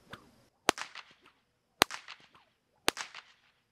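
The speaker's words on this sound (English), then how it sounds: "This is the 4-foot stock whip." A 4-foot stock whip cracks three times at steady intervals, each sharp, loud snap followed by scattered echoes and rustling off the surroundings.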